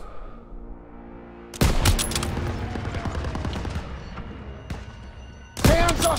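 Turret gunfire in the Call of Duty WWII video game rattles in loud sustained bursts, with heavy booming impacts breaking in at the start and again near the end.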